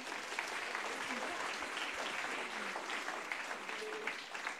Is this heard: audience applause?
yes